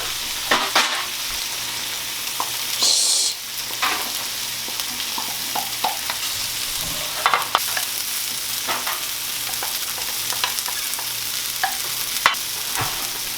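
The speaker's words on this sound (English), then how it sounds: "stir in the corn, rice, beans, and salsa" Corn, rice, beans and salsa are stirred in a skillet of Mexican rice, with soft scrapes and shuffles recurring every second or so over a steady low sizzle, close and moderately loud, with no talk.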